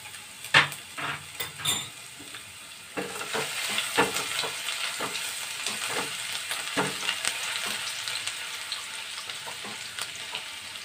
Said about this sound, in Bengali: রসুন কুচি, আর দিচ্ছি আমি 1 চামচ মতন আদা কুচি।